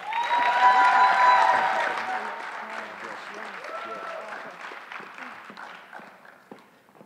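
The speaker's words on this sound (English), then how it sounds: "Please give them another round of applause." Audience applause at a Columbus City Schools awards ceremony honoring two lifesavers, a dense wash of clapping that peaks early then thins and fades out toward the end.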